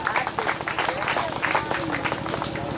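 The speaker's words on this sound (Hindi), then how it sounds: "पंडित जी के रोल में भी डावर दलाल भी थे, तो इनके लिए जोरदार ताली बजा दीजिए" A crowd claps for a cast member of a stage comedy performance, the applause rising and falling under a presenter's amplified voice that speaks over it.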